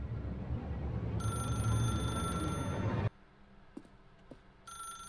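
Telephone ringing in the video game The Stanley Parable: Ultra Deluxe, a clear electronic ring with bright steady tones over a low ambient hum, stopping abruptly partway, then faint clicks before the ring briefly resumes.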